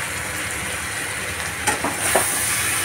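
Small carp fingerlings cooking with Malabar spinach in a pan give off a steady, close sizzle, with a few short stirring scrapes near the end.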